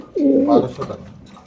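A racer pigeon for sale gives one close, loud, throaty coo that rises and bends before trailing off into softer murmuring.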